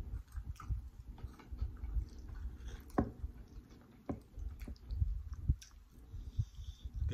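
Someone chews crispy baked pork belly close to the mic, producing soft, irregular crunches and wet squishy bites with occasional sharper clicks, all fairly faint and with no talking.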